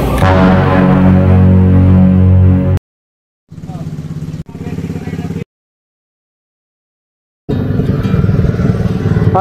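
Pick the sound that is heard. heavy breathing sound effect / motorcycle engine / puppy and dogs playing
motorcycle engine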